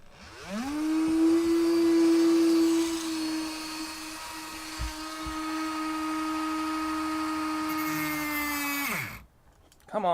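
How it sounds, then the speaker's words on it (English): Dremel rotary tool cutting carbon fiber, a loud high-pitched motor whine that spins up, holds steady for several seconds with slight dips under load, then winds down abruptly. "Come on, Dremel."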